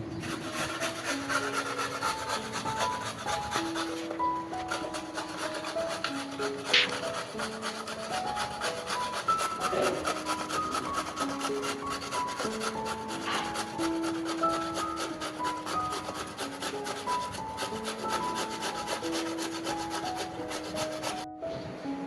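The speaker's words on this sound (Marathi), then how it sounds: "तर मग मी आता ही काकडी किसून घेते" A cucumber is grated by hand in a home kitchen, with steady rasping strokes repeating at a moderate pace under soft background music.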